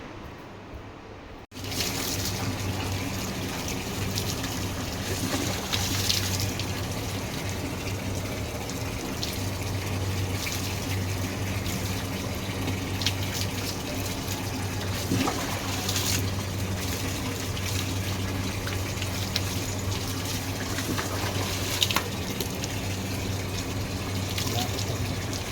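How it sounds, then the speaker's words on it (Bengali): Water runs steadily from a tap while a pet dog is bathed, a continuous splashing flow that lasts throughout with small shifts in level. "চলো দেখবে পাপলুকে স্নান করানো হচ্ছে।"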